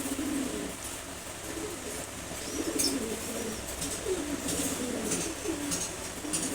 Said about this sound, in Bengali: খুবই অ্যাক্টিভ নর কবুতর